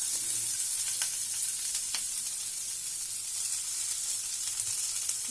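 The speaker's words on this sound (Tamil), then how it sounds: "வெங்காயம் நல்லா வதங்கட்டும்." Sliced onions with cumin seeds frying in hot oil, giving a steady close sizzle with a few light stirring clicks and no talk.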